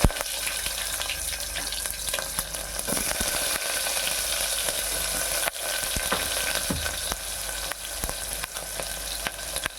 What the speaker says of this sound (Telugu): ఈ ఉల్లిపాయ ముక్కలు గోల్డెన్ కలర్ వచ్చేంత వరకు ఫ్రై చేసుకోవాలి